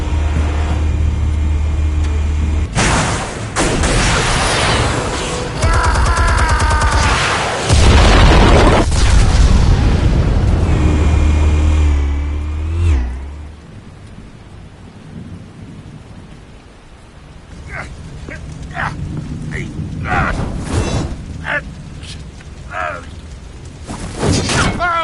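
Explosives detonate in the Batman Telltale video game, with deep heavy booms and rumbling blasts in the first half, followed by quieter crackling debris and scattered impacts as the roar fades away.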